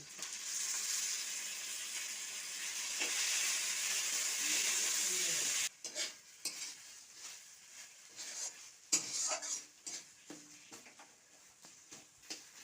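Continuous oil sizzle fills the first half, then breaks into choppy bursts of sizzling and scraping as ghetkol leaf paste is stirred around the pan.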